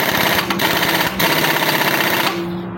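A nut being tightened on a Honda Beat F1 scooter's CVT: a loud, close, dense rattling mechanical buzz runs for over two seconds, briefly dipping twice before cutting off, with no voices.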